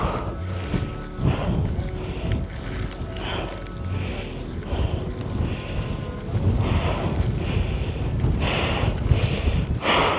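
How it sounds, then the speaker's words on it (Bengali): Strong mountain gusts buffet the microphone in loud, roaring bursts that swell and fade unevenly throughout, in the Spiti Valley. "প্রচণ্ড হাওয়া চলছে"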